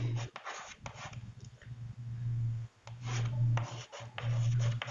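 Chalk or marker writing on a classroom board, rhythmic scratchy strokes in short bursts with brief pauses between them, close and fairly loud, no speech over it.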